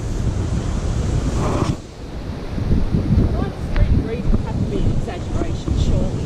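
Cold wind gusting across open bushland at Hanging Rock, a steady low buffeting roar with a brief lull, with people talking under it.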